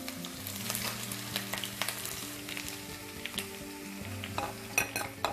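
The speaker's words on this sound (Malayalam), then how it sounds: "ഒരു മുഴുത്ത കഷ്ണം ഇഞ്ചി ചെറുതായിട്ട് അരിഞ്ഞ് അത് വഴറ്റണം" Chopped ginger and fenugreek seeds sautéing in hot oil for a homemade mango pickle, a steady sizzle broken by repeated scrapes and clinks of a spoon stirring against the pan, with no voices.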